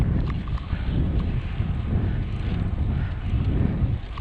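Wind buffets the microphone outdoors during a motorcycle ride in hot weather, a constant low roaring rush with gusty swells that lasts throughout, and no talk.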